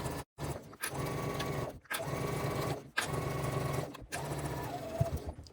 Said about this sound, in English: Using a shorter stitch length, back stitch at the beginning, and then sewing straight down this edge.